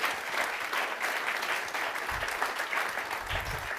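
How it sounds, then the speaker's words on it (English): Conference audience applauding a speaker, a steady wash of many hands clapping at moderate distance, sustained throughout with a few low thumps. "let's please give him a big round of applause."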